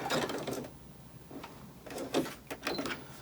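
A sewing machine back-stitches through bulky terry towel fabric in short bursts of mechanical whirring and clicking, pausing between runs, close and fairly quiet.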